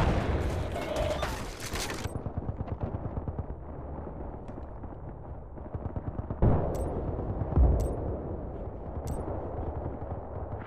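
Gunfire in Battlefield Bad Company 2 crackles as rapid bursts of automatic shots, with a few sharper, louder reports standing out amid a continuous battle din, while players talk over it.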